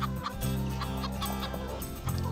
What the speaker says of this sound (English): We're feeding the chickens.